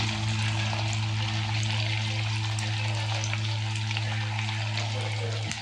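Veg Manchurian balls deep fry in oil over a medium flame, making a steady, dense sizzle and crackle over a constant low hum, with no break throughout.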